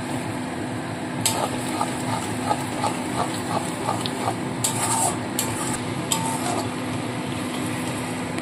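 Ground spices frying in hot oil for restaurant-style chicken do pyaza give a steady close sizzle, with light scraping and clinking from a stirring utensil against the pan at intervals.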